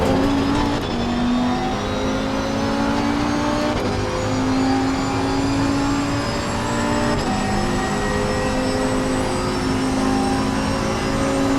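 A Porsche race car in the Assetto Corsa Competizione video game rolls along slowly, its engine holding a steady droning tone with a few gear changes and gentle throttle swells, continuous and close throughout.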